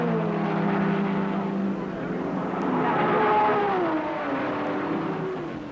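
Triumph TR sports cars race at Le Mans, a sustained engine drone whose pitch slides up and down as the cars pass, with a narrator talking over it.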